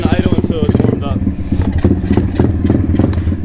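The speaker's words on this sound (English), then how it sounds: "It sounds like it don't want to idle." Pit bike engine revving and sputtering as it struggles to hold an idle, a loud, close, rough mechanical chatter that bursts up and down unevenly.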